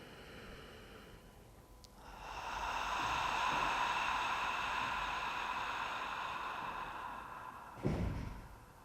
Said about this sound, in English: and you exhale out with an R breath, and it sounds like this.